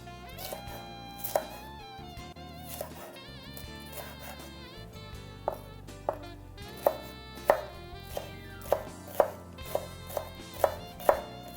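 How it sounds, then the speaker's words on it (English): A knife chops a fresh garden green pepper finely on a board, starting sparse and then settling into a fast, steady run of crisp close taps over faint background music. "Again, we'll chop it real finely."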